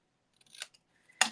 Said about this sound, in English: give that a little trim there